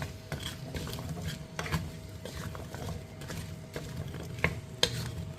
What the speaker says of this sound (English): we're just going to go in with those potatoes. We're just going to give them a stir.